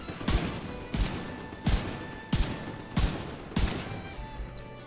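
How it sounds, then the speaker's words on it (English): Six evenly spaced, sharp gunshots crack out one by one at roughly two-thirds of a second apart in the Destiny 2 game, fairly loud with short ringing tails and no talking. "There's somebody firing at the hip over there."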